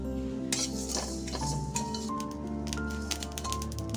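Whole coriander seeds, cumin, fennel and a dried red chilli dry-roasting in a pan, with scattered crackling pops and clinks of stirring that grow busier toward the end.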